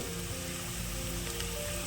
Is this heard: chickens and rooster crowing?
no